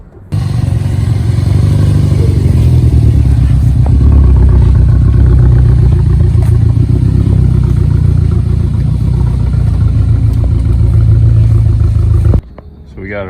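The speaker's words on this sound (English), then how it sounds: "here's the video of my girlfriend driving it into the driveway" A salvaged Hyundai Veloster Turbo idles and rolls into a driveway, a loud, steady engine rumble close by for about twelve seconds before cutting off abruptly.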